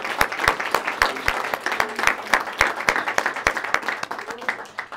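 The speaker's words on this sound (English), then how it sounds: "I think that deserves a round of applause" Wedding ceremony guests break into applause, a lively burst of many hands clapping in a room, steady for several seconds before tapering off.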